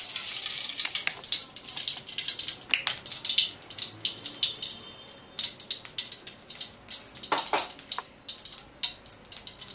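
Oil heating in a pan for Mandya-style sesame chicken kebabs, close crackling and popping in uneven bursts over a faint hiss, with no talk.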